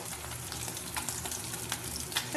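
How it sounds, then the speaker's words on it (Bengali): Fish sizzles and crackles continuously in hot oil, a dense frying hiss with small pops throughout. "চলো মাছও ভাজা প্রায় হয়ে এসছে একটু লাল লাল করেই ভাজবো"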